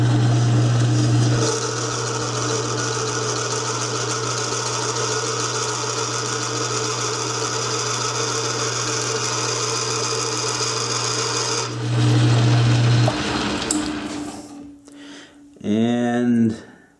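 Metal lathe taking a 300-thousandths cut with a D.T. tool holder, a steady grinding whir with a constant hum that runs on, then stops and spins down with a brief squeal near the end.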